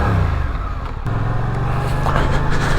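Suzuki GSX-8S motorcycle being ridden on the road, its engine droning steadily and loudly under heavy wind rush, with a slight rise in revs partway through.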